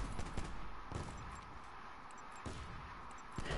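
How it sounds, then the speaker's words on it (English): Gunfire from the battle royale game Black Ops 4 Blackout, a dense steady rattle of distant shots with a few sharper cracks, continuing throughout at moderate level. "This really fluent, like, gunshot kind of thing"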